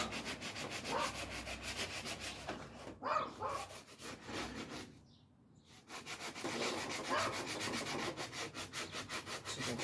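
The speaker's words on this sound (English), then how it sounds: "Sanding these parts." Wooden parts being sanded by hand produce steady rhythmic rubbing strokes, close and continuous, with a brief pause in the middle before the scraping resumes.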